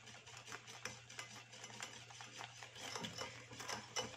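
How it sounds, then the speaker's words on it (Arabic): Steady hand-mixing of a thick cake batter of sugar, eggs and oil, a continuous soft scraping and stirring sound with a faint low hum underneath and no voices. "وغادي نخلط لكم مزيان"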